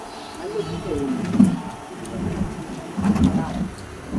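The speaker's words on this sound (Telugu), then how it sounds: "ఇందా పడింది వానం" Rain falling with low rolling thunder, a steady wash under deeper rumbles that swell around the middle and near the end, with voices talking over the storm.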